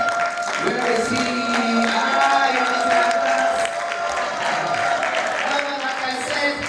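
A conference audience claps and cheers for someone speaker's husband, a dense crowd applause that holds steady and loud throughout, with a few voices rising inside it.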